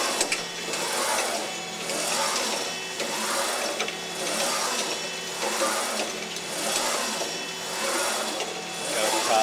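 Sunnen SV-210 vertical honing machine running with a slow, easy stroke, a steady mechanical whir that swells and fades in a regular cycle about every second and a half.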